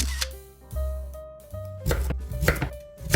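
Knife chopping through a sweet potato on a cutting board, a few uneven cuts with clunks and clatter, close by, no talking.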